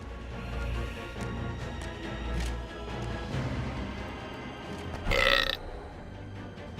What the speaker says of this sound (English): The hellhole rewarded the sacrifice of a live hero with a respectable burp.